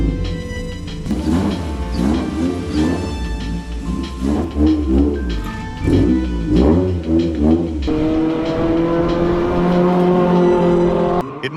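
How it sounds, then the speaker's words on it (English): A Honda Civic EG6 on a race track test, its engine revving hard and rising through the gears in repeated surges, then holding a high steady tone, loud and close, with no talk. "the moment we've all been waiting for: a track test."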